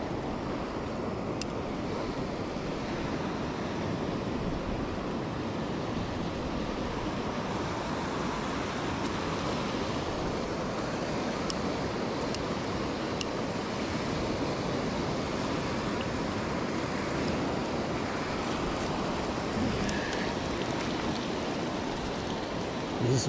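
Sea waves and a fast-running tide on the Bristol Channel shore at Ogmore-by-Sea make a constant broad wash of surf, steady and fairly close, with no talk over it.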